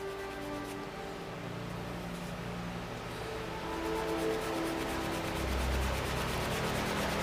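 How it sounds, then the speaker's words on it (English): Steady, continuous rasping of sandpaper rubbed back and forth on an epoxy resin casting blank, close and moderately loud, growing slightly stronger partway through. "I think I'm sanding with the wrong paper."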